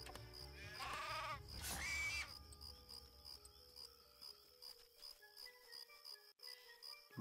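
Sheep bleating in the game Craft the World, a wavering harmonic bleat rising loud around the first two seconds, then fading into quiet game ambience with faint repeating chirps and tones.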